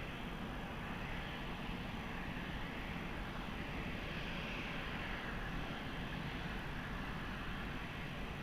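Emirates jet taking off from runway 20 at Lisbon Airport, a broad continuous engine roar held steady and heard from a distance, with no voices.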